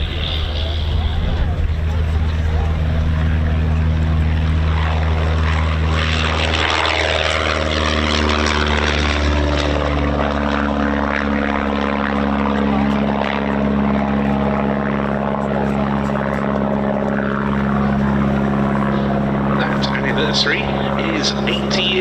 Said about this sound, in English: It's the de Havilland Canada Chipmunk T10